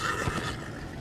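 A horse in the video game Minecraft Story Mode lets out a short neigh over rumbling action noise, close but partly buried in the busy background.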